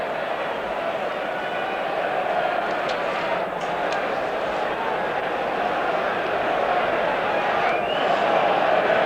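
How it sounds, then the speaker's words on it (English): Stadium crowd waiting at the 1990 Rugby League Challenge Cup Final between Wigan and Warrington, a dense continuous murmur of thousands of spectators with scattered whistles, steady and fairly loud throughout. "Crowd a little restless, wanting to get on with the game."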